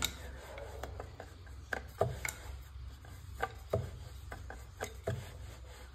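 Bun dough being rolled out by hand on a board, heard as soft scattered rubbing and knocks with a few sharper taps, faint and close, without any talk.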